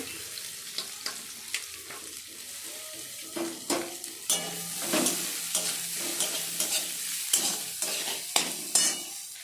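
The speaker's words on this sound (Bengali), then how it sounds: "এবার কুচানো পেঁয়াজগুলো দিয়ে দেব।" Chopped onions hit hot oil with chili in a pan just used for frying fish, sizzling loudly up close while a utensil stirs and scrapes in repeated bursts that grow busier toward the end.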